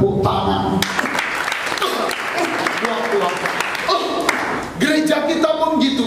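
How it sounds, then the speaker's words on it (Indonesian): Congregation applause during a church sermon, a steady patter of clapping mixed with tonal instrumental notes and a brief dip before the sound resumes. "Yang ngerti kita tepuk tangan."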